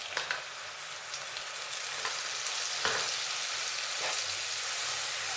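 Ginger paste and a spice mix soaked in water are added to fried onions in a pan, producing a steady, close sizzle broken by a few clinks and scrapes of stirring.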